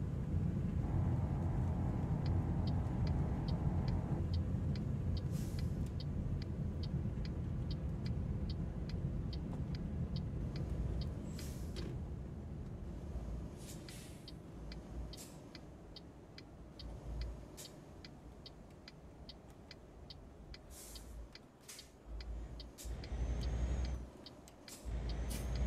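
A truck in Euro Truck Simulator 2 pulls away, its engine rumbling steadily at first and easing down, with a hiss of air brakes, a regular ticking indicator and a few clicks and knocks as it drives off.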